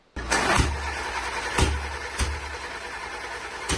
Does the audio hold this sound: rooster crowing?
no